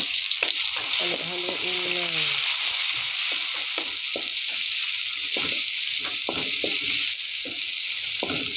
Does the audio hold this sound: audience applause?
no